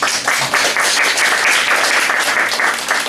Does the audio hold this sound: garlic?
no